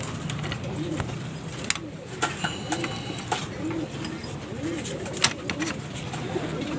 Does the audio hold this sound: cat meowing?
no